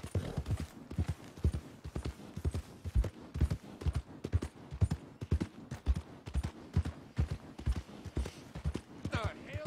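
A horse's hooves clop in a steady, rhythmic walking gait in the Red Dead Redemption 2 video game, with close, distinct beats repeating evenly and a brief voice near the end.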